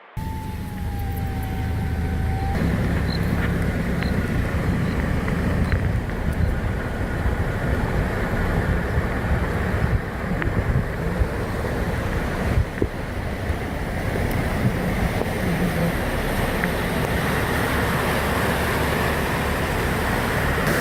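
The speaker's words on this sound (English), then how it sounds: "Geez, look at the water. It's taking the bridge." Storm floodwater rushes and roars in a steady, loud, broadband wash as it sweeps away a bridge during heavy rain in South Africa, with wind buffeting the microphone throughout and no voices.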